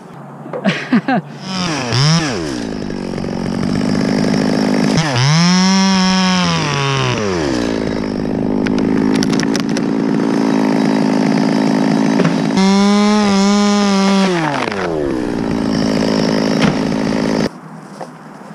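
A chainsaw working during tree felling on a badly decayed tree, engine revving up hard in two long surges to cutting pitch with steady idling between, loud and close.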